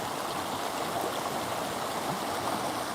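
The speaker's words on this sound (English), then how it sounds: "Because of the sound of the water right now, it felt like I ducked my head in water" A stream of flowing water makes a steady, dense rushing hiss with no breaks, close and continuous throughout.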